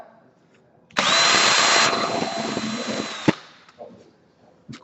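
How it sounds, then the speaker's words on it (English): A power drill bores a hole freehand into a wooden snowman turning, a loud whine that starts abruptly, holds steady for over two seconds, then winds down and stops, followed by faint handling noises. "And I freehand drill these."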